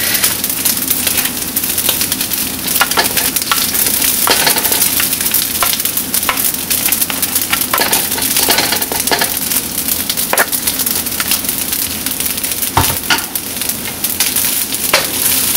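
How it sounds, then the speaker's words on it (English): Garlic and rice stir-fry in a hot pan with a loud, continuous sizzle, broken by frequent sharp scrapes and taps of the utensil as the rice is broken up and tossed. "you're going to mix the garlic and the rice as evenly as possible"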